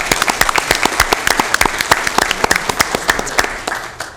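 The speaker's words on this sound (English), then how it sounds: "I would applaud that" Sparse, distinct hand claps at a county board of supervisors meeting, a small scattering of people clapping steadily in a room for several seconds.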